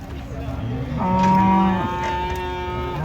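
A cow being unloaded from a truck lets out one loud, drawn-out moo that swells and fades, with faint background noise around it.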